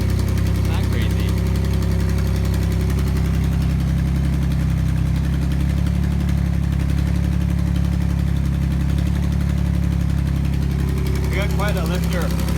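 A 1987 Pontiac Fiero engine idles steadily with a resonator fitted in place of the catalytic converter, giving a low, continuous exhaust drone up close. Brief voices are audible near the start and end.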